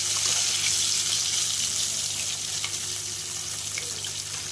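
Pomfret fish pieces frying in a pan, a steady, bright hiss of hot oil that holds evenly for a few seconds, close and continuous without pauses.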